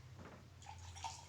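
Homemade soda with strawberry, lemon and black salt fizzing in a glass, a soft, close bubbling hiss that lasts about a second with no one talking.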